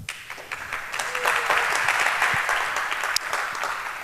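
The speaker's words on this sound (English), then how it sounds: "A big round of applause for her," Audience at the SHA2017 hacker camp conference applauds a speaker on a talk about social enterprises and activism, a steady wash of many hands clapping at even loudness for about four seconds, with no voices over it.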